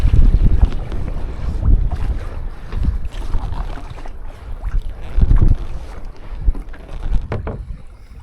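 Gusting wind buffets the microphone while a kayak or canoe is paddled across open water in the Everglades near Tiger Key, with low rumbling gusts rising and falling throughout and faint water splashes, no voices.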